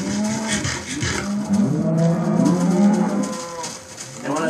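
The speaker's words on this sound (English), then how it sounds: "As you can see, we got a lot of cows." Several cows moo in Minecraft, drawn-out low calls overlapping one after another at close range, with a steady low background hum throughout and no talking.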